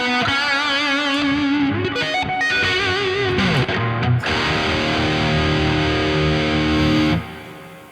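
Electric guitar run through the Neural DSP Archetype Nolly plugin's delay and reverb pedals rings out with sustained distorted notes and sliding bends, echoes and a washy reverb tail before cutting off abruptly.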